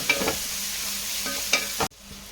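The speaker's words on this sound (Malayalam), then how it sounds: "നല്ലതായിട്ട് നിളക്കാം." Crushed ginger, garlic and green chili sizzle in hot oil for biryani while a spoon stirs the pan, steady frying hiss with a few scraping clinks before cutting off abruptly.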